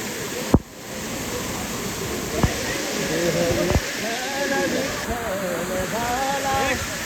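Water from an outdoor waterfall rushes in a steady hiss, heard close and continuous beneath people talking, with a few sharp knocks.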